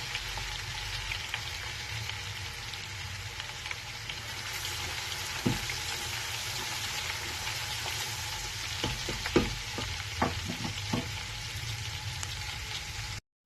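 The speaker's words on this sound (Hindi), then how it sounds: "अदरक लहसुन पेस्ट को हम ब्राउन करेंगे।" Ginger garlic paste frying in hot oil gives a steady, moderate sizzle with occasional sharper crackles and stirring scrapes, close by, with no talking.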